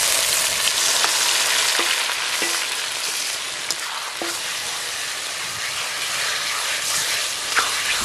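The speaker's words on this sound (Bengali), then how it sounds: "এখন হজমগুটিটা মশলা দিয়ে মাখানো ছিল দিয়ে দেব" Chicken gizzards coated in spices sizzle in a pan of browned fried onions: a loud, continuous, close-up frying hiss broken by scattered clicks and taps from stirring.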